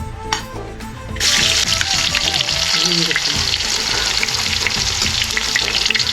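Sliced onions dropped into hot oil in a pan for a Kerala mackerel chilli curry, a quiet start giving way to a sudden loud, steady sizzle that stays close and continuous to the end.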